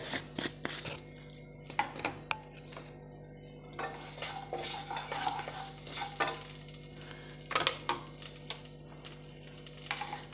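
Mustard seeds and whole cumin crackle in hot oil for a tempering, with sharp pops and spitting bursts over a continuous fry, mixed with stirring scrapes and clinks of a utensil against the pan.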